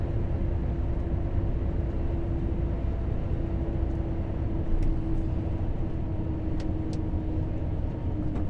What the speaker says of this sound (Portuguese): caminhão passando lá.